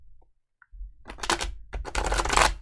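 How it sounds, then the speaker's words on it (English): Tarot cards being shuffled by hand, a close, crisp riffling flutter in two bursts after a quiet start. "One more shuffle."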